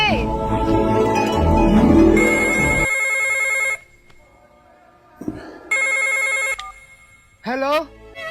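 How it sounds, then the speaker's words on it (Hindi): A telephone rings in repeated electronic bursts, loud and near, separated by short silences, with a voice talking over the first part and a rising whistle-like tone at the end. "जल्दी आइए, इंडिया से फोन आ गया, जल्दी करें"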